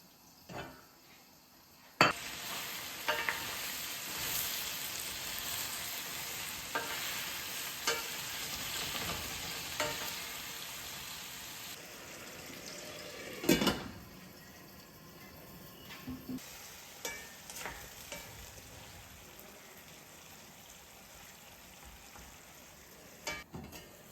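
A South African-style pumpkin curry is stirred in a pot over medium-low heat, giving a steady sizzle with scraping and clinking of a spoon against the pot and occasional louder knocks, without talk.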